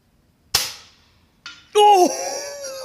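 An FX Impact M3 air rifle with a harmonic barrel tune fires a slug: one sharp, close crack that fades quickly, then a brief thud and a loud ringing metallic tone.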